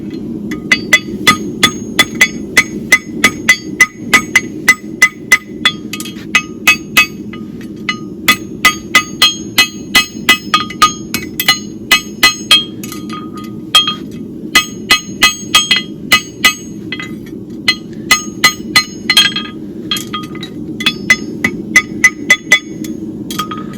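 A farrier hammers a St. Croix horseshoe on an anvil, giving sharp ringing metallic strikes in quick steady bursts, with short pauses between runs, loud and close.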